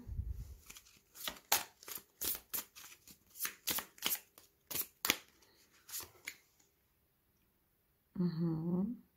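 A deck of tarot cards is shuffled with quick, crisp riffling slaps and clicks in an uneven rhythm, close and fairly loud, then falls quiet before a voice speaks briefly at the end.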